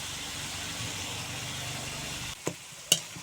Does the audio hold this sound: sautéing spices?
yes